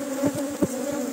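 Honey bees hum steadily around honey supers stacked on a hive, a dense continuous drone with a few louder passes close by, no voices.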